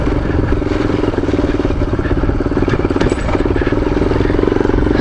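A roughly 500-pound motorcycle rumbles loud and close while riding a gravel forest road near Suches, Georgia, its engine chugging with uneven pulses and clatter throughout.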